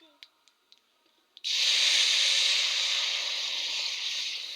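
Spinach poured into hot oil in a small wok, a few light clinks first, then a sudden loud, sustained sizzling hiss that slowly eases, close and alone.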